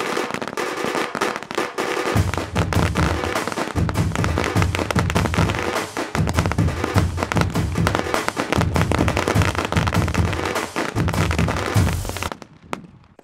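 Firecrackers from a Sivakasi Pandiyan-brand pack set off outdoors in a loud, continuous crackling barrage of rapid bangs and deep thumps that runs for about ten seconds, then stops abruptly.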